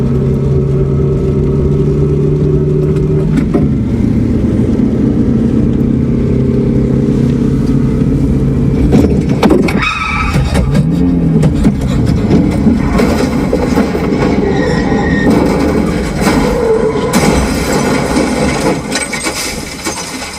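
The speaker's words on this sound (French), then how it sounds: "les bruits d'un accident avec tonneau à haute vélocité" A car engine roars, then a violent high-speed rollover crash erupts with crunching metal, tumbling impacts and scattered debris clattering, loud and chaotic before trailing off.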